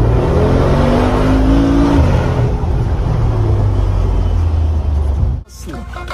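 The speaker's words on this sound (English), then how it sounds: "Wanna see a G63 AMG in Sports Plus?" A Mercedes G63 AMG in Sport Plus mode, its engine roaring loud and close with rising revs and a deep rumble, then an abrupt cut near the end.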